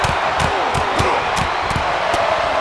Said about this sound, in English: The fists are flying and this crowd is hot.